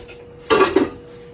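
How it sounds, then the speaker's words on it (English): Dishes being washed in a home kitchen, a brief burst of clattering plates and cutlery knocking together in the sink, fairly close and loud, heard alone. "can tell I've been washing dishes behind me, can't you?"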